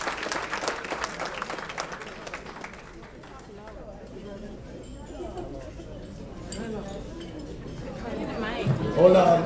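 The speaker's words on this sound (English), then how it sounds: "let's give Jaden a round of applause" Applause at a New York banquet rises at the start and thins into crowd chatter and voices. Clinking and talking run underneath before the room grows louder again near the end.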